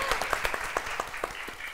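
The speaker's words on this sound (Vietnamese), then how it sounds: "Vỗ tay quý vị ơi." Studio audience applauding on a Vietnamese dating show, a steady wash of many hands clapping with sharper individual claps standing out, moderately loud and unbroken for under two seconds.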